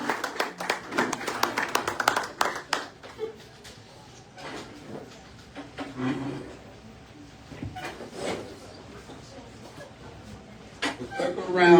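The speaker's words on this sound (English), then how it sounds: "Let's give them a big round of applause." An audience applauds at a parish volleyball season kick-off show, a loud burst of clapping at the start that thins into scattered claps and chatter, then swells again at the end.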